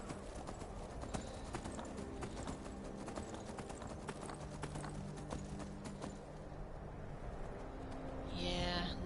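Steady, rhythmic clip-clop of horse hooves in Skyrim plods on continuously at a walking pace, fairly quiet, with a faint higher tone near the end.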